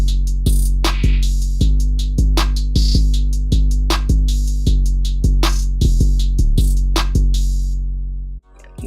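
FL Studio trap beat with an open hi-hat over a steady, loud pattern of repeating booming hits and bright hat strikes, cut off abruptly near the end with no voices.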